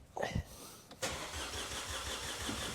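A Vauxhall Corsa engine cranks briefly and then catches, settling into a steady, loud idle with a rhythmic low rumble. No one speaks.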